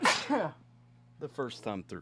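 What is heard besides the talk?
sneeze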